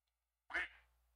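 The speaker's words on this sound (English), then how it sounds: "quack on the computer" A single short duck quack sound effect plays from a computer, sudden and fairly loud against near silence, then trails off into a faint hum.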